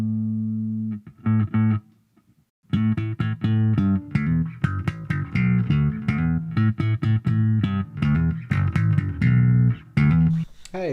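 An electric bass played through a Positive Grid Spark practice amp, plucked notes and short riffs with brief pauses, clean and close, with no one talking.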